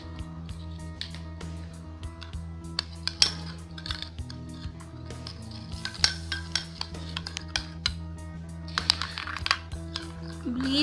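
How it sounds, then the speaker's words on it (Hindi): Bleach powder is stirred in a small bowl with a spoon or spatula, giving quick clinking taps and scraping over a steady low background hum. "इसको अब आपने अच्छे से मिक्स करना है।"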